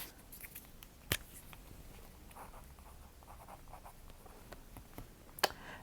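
Quiet scratching of a pen or pencil writing a name by hand on paper, soft intermittent strokes close up with a couple of sharper clicks in a near-silent room.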